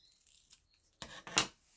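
Scissors cutting through rolled, varnish-sprayed art canvas, two short rasping snips, the second louder and sharper, after a few faint rustles, close and quiet with no talk.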